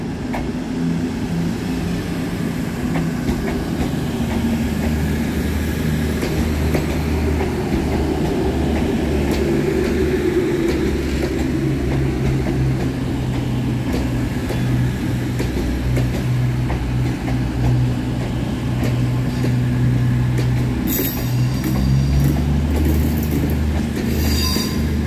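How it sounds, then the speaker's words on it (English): Cross Country trains 221127 and 220021 arriving at Birmingham New Street station, a continuous rumble of engines and rolling wheels with squealing brakes and rail noise building near the platform, loud and sustained. "Next in for cross country is 221127 and 220021, working the 1157 service from Reading to Manchester Piccadilly"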